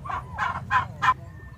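A farm turkey gobbles in four quick, loud bursts close by, with a low steady hum underneath and no talking.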